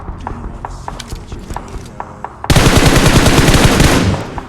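Gunfire in the mobile battle-royale game PUBG Mobile: scattered single shots at first, then a loud, dense automatic burst that rattles on steadily for about a second and a half before cutting off.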